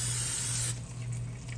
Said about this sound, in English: I'm going to go ahead and put some pan spray on my pan